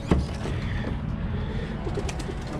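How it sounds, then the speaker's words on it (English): Pigeons cooing at a farm attraction, soft low calls in a busy outdoor setting, beginning with a brief thump and followed by continuous rustling and clatter. "Come on, don't be scared of me, pigeon."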